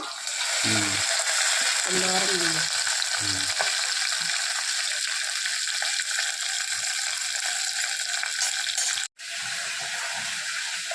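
Dried red chilies and curry leaves sizzle loudly in hot oil as a tempering for dal with spinach, a steady broadband crackle throughout with a brief cutout near the end and faint voice-like tones early on.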